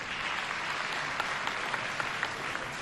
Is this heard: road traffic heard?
no